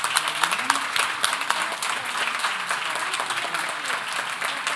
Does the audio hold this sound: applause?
yes